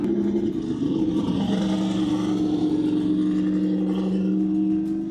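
A low-slung race car at Madera Speedway holds a steady, loud engine drone with a sustained tone that rises slightly, heard close to the track throughout.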